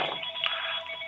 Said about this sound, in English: Oh, let me turn off this phone.